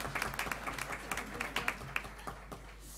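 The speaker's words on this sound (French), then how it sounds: "On peut les applaudir." Sparse, quiet applause from a small audience at a French colloquium, with individual claps standing out irregularly and thinning toward the end.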